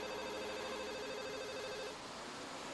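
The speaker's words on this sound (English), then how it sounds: "A familiar soft ringing begins to sound from Lily's side." A soft, quiet electronic mobile phone ringtone from the visual novel Katawa Shoujo trills in a repeating pattern for a couple of seconds before stopping.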